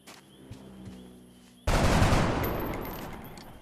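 Gunfire in the video game XCOM: Enemy Unknown cuts in suddenly as a loud burst after a quiet stretch, then trails off in a long, noisy decay.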